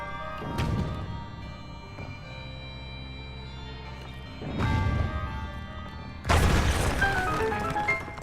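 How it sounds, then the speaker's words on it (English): A remote bomb detonates in Breath of the Wild with a loud booming crash. Several separate heavy blasts and thuds ring out, each decaying with a ringing tail, and the last and loudest comes near the end. "I just remotely detonated that"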